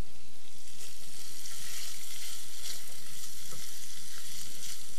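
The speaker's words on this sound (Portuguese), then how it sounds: "A gente vai fritar primeiro a linguiça calabresa, que é pra fazer o fundo da panela" Calabresa sausage sizzles and crackles steadily in a hot pan, a dense, continuous frying hiss with small pops throughout and no voices.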